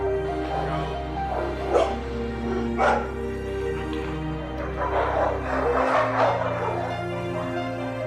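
Several dogs bark and yip at a foster kennel, repeated overlapping barks with some whimpering over a steady low hum, moderately close.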